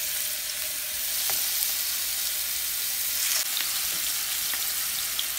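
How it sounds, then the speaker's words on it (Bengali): Hilsa fish fry in hot oil with a steady, bright sizzle and scattered sharp pops and crackles, close by and continuous. "এখন একে একে মাছগুলো হালকা ফ্রাই করে নেব।"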